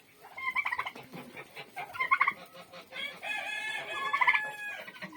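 A goose on a farm with other poultry calls out loudly in several harsh, honking bursts, close by, separated by short gaps.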